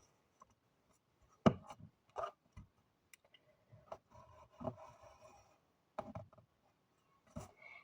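A pencil scratches across paper while drawing a measured line for a school-style sketch, with several short, quiet strokes and taps separated by pauses, close and faint with no talking.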